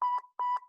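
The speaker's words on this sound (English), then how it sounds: "Sometimes the beep sounds like this." A synthetic electronic beep stands for a brain signal, sounding twice as short, bright, buzzy tones with a slight warble, evenly spaced and loud, each trailing off quickly.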